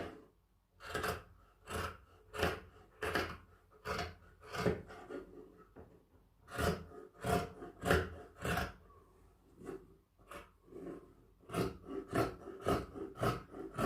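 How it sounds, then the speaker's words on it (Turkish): Scissors cutting through fabric for the back panel of a handmade vest, a series of close crisp snipping and rasping strokes in bursts with short pauses between them. "Şimdi arka bedenimi kesiyorum."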